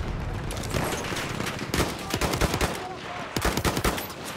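Rapid bursts of gunfire from a firearm in the video game Battlefield 1, loud and close, crackling in dense volleys across the whole stretch with only faint voice underneath.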